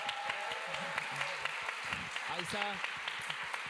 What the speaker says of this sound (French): je voudrais bien qu'on l'applaudisse, s'il vous plaît.